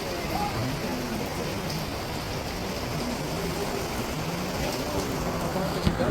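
Heavy rain pours steadily outdoors on a shopping walk in Israel, a constant broadband hiss that holds at an even level throughout, with faint voices and background murmur underneath.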